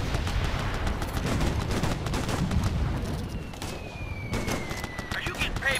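Dense gunfire from a military shooter game set in the Operation Flashpoint: Red River campaign, with rapid overlapping rifle and machine-gun bursts continuing throughout, loud and close, while voices talk over the firefight.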